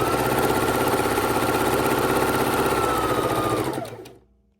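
A sewing machine runs steadily while stitching a border onto the side of a quilt, its rapid mechanical whirr loud and close for about four seconds before slowing and stopping.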